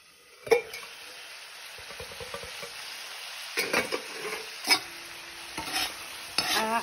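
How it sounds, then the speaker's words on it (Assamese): Pork frying with a ginger, garlic and chili paste, a steady close sizzle punctuated by sharp scrapes and clinks of a utensil stirring in the pan, no voices. "এই পেষ্টটোৰ লগত অলপ ভাজি ল'ম।"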